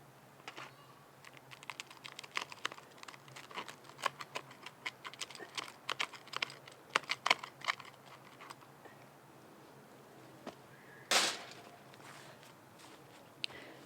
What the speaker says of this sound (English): So yeah, I cut and you could hear it. It's crispy.